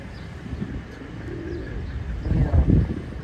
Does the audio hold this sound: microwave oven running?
no